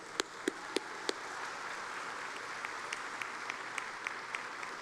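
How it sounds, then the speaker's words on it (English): Sparse, soft applause from graduates at a college graduation ceremony in a large hall, a few sharper claps standing out at the start over a steady, distant patter. "give yourselves a round of applause for what you have done in the last few years"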